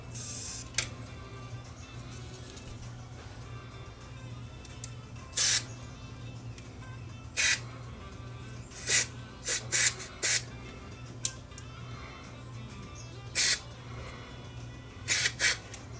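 Contact cleaner is sprayed into a switch on a Yamaha RX550 receiver in short, sharp, close hissing spurts, some single and some in quick pairs, over a quiet steady hum.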